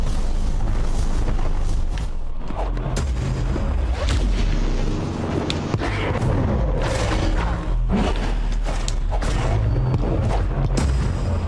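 A cannon fires repeatedly in the action platformer Sundered, deep booming blasts and bursts recurring every second or two over a dense, loud bed of game noise.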